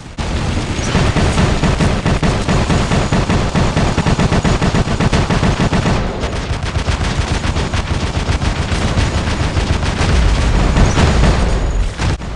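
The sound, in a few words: machine gun fire in a video game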